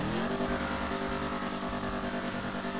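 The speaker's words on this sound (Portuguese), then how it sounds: "Ouve só o ronco do motor desse carro." Engine roar of a 2019 Ford Mustang in GTA 5, a loud, steady revving drone with rising tone early on and strong low rumble throughout, no talk over it.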